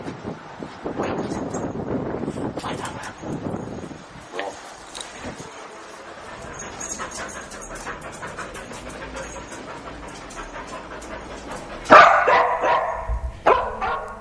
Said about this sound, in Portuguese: dá um alerta de odor a cadáver num latir estridente